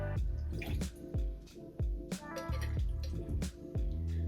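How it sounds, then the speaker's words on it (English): Gin is poured into a cocktail measure for a Long Island Iced Tea, giving a soft, close trickle and splash of liquid with small drips and glassy knocks, and no talk. "Next, you're going to add a ½ ounce of gin."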